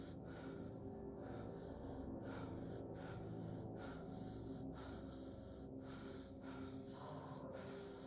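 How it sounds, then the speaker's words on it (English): A character in the horror game At Dead of Night breathes hard and fast, a faint steady run of short gasping breaths repeating at a regular rhythm. "Girl, why are you breathing so damn hard?"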